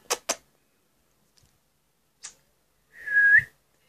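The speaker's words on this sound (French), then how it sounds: "Pourquoi j'ai sifflé en fait?" A person whistles one short, bright note close by near the end, after a few sharp clicks and a long quiet stretch.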